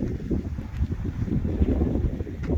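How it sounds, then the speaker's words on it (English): Steady breeze blowing outdoors at a camping area, a low continuous rushing with gusty rumble buffeting the microphone, no voices. "It's pretty windy last night and this morning, but it's down to a breeze now."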